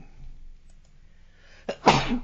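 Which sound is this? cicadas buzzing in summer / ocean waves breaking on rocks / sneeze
sneeze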